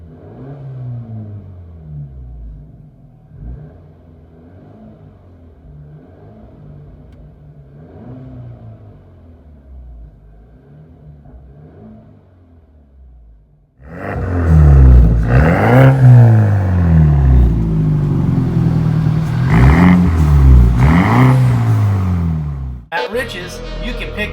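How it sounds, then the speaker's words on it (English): A 2013 BMW X1 with a Street Demon cat-back performance exhaust, first heard faintly from the cabin through a series of rising and falling revs, then loud and close outside with deep repeated revving swells and a sharp cutoff. "Interior tone level is mild to moderate with this Street Demon catback performance exhaust"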